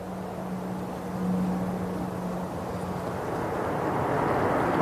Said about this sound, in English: Another nice touchdown by this Ryanair.